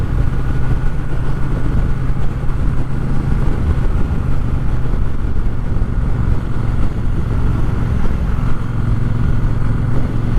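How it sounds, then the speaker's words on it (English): Steady, loud wind rush and engine drone while riding a 2020 Triumph Bobber Black motorcycle with no windshield, a continuous roar with no pauses and no speech. "If you hear too much wind noise, well, there's no windshield on this bike."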